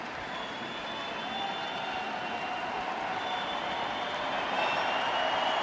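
A stadium crowd of over 55,000 roars steadily at a Cubs versus Cardinals baseball game in London, a broad continuous wash of cheering that swells slightly toward the end.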